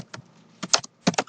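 Typing on a computer keyboard: three quick clusters of crisp, close keystrokes separated by short pauses, with no other sound.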